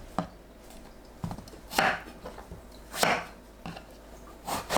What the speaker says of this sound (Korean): 가지는 꼭지와 끝부분을 제거합니다